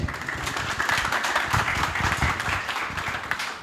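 Audience at an economic seminar applauding, a steady moderate wash of many hands clapping together, sustained throughout with no talk over it.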